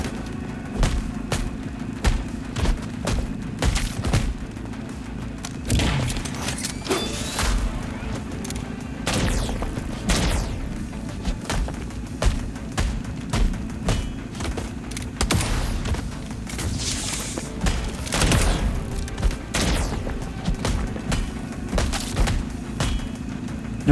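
Enemy gunfire in the video game Replaced: repeated heavy shots and booming impacts at irregular intervals over a steady low game drone, loud and close, no talking.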